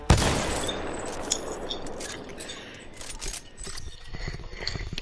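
Gunfire in a shooter video game: a sharp opening shot followed by a rapid, crackling string of shots and impacts that fade, then pick back up, close and loud.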